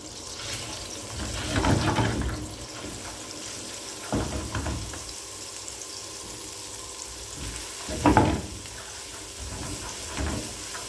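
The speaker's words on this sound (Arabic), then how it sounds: "اول ما تسيح بالشكل ده هنزل عليها بجزء من الثوم اللي احنا فرمينه ده" Minced garlic fries gently in melted fat, a soft steady sizzle broken by a few louder rushing bursts, close by and without talking.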